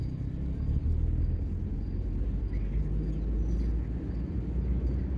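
Engine of a car during a driving lesson with steering practice, revving under acceleration as a steady, close, continuous low rumble with no talk.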